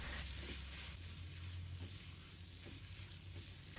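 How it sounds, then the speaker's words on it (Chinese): Blanched kelp shreds stir-fried in a wok, a steady close sizzle with brief scraping stirs breaking through now and then, no voices. "然后把焯水的海带丝也倒进来，然后随意的给它翻炒几下"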